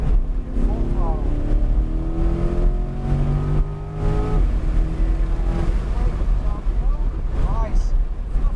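A Corvette C8 Z51 accelerating hard at full throttle around a racetrack, its engine note rising steadily in pitch through the gears over strong wind buffeting, with a voice talking over it.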